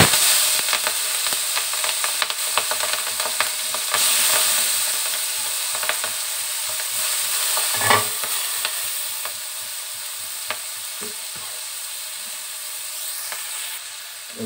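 Chopped onion and chili frying in a pan for a rohu fish dish, steady bright sizzle with scattered crackles and occasional stirring scrapes, close and continuous without speech.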